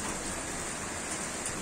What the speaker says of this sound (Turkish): Yağmurlu kardeş bugün ya.